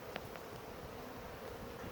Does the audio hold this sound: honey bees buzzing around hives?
yes